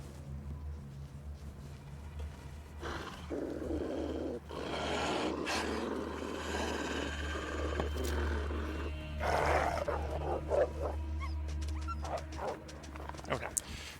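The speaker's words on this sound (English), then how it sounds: "Local wolves." Low growling snarls from a wolf rumble through a snowy wilderness scene in The Long Dark, sustained and fairly close, rising and falling over several seconds beneath a faint spoken voice.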